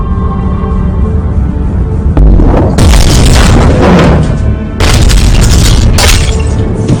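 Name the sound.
depth charge explosions shaking a submarine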